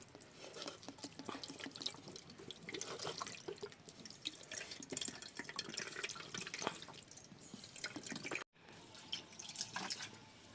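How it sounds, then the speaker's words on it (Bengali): Tap water runs steadily over chhana (fresh cottage cheese) as it is washed in a kitchen sink, with a soft, continuous splashing and trickling and a brief cut partway through. "এবারে আমি এই ছানাটা ধুয়ে নেব জল দিয়ে।"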